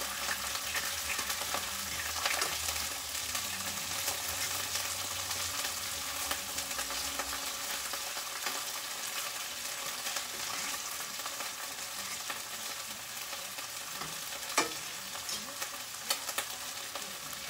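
Beef stir-frying in a hot pan gives a steady, close sizzle with intermittent scraping and stirring, continuous throughout with no voices.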